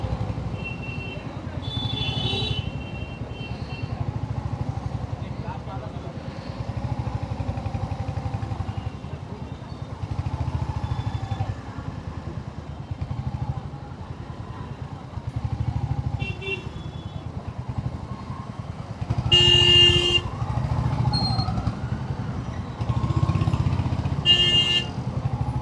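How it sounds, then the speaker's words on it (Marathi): Heavy round-the-clock city traffic of motorcycles and cars rumbles continuously nearby, with sharp horn toots and honks bursting out repeatedly, especially toward the end; no voices stand out. "नुसती ट्रॅफिक, 24 तास ट्रॅफिक."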